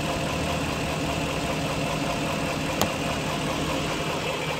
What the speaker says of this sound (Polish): Krzywo ci chodzi silnik.